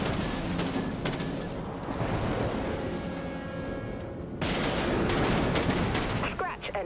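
Autogun fire in the video game Dreadnought: loud, sustained rapid bursts of heavy gunfire with booming impacts, continuous throughout and intensifying near the end.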